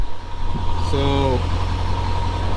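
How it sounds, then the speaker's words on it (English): A Ford 7.3 Powerstroke diesel truck engine idles with a steady low rumbling clatter throughout, while someone briefly talks over it. "So I'm gonna let it idle for a little bit"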